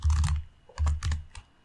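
Code is typed on a computer keyboard in quick clusters of close, crisp key clicks separated by a short pause, with no voice over them.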